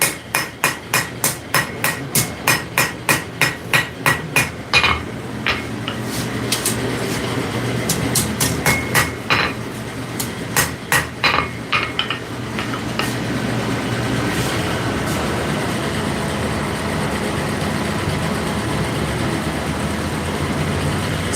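Forged rebar steel planished with a hammer, rapid bursts of sharp ringing blows in quick rhythmic runs with short pauses, close and loud over a low background rumble.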